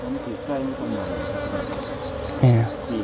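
Asian cavity-nesting honey bees give a steady, close, high-pitched buzzing drone that carries throughout, with a brief louder low sound near the end.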